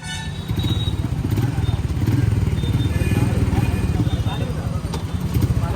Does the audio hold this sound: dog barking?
no